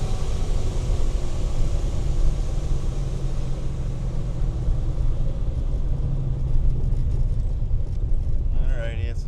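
Peterbilt 408 truck engine rumbles steadily while driving, a loud continuous low drone throughout, with a voice speaking over it near the end.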